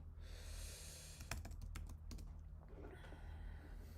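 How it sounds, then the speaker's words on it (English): Quick burst of keystrokes on a computer keyboard typing a short word into a chat, clustered clicks in the middle of a quiet room hum, close and fairly soft, with no talking. "I'll just type in hello."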